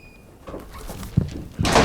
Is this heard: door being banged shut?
yes